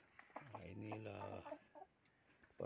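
Backyard-raised chickens cluck and call close by in a short burst, with a steady high electrical whine running underneath.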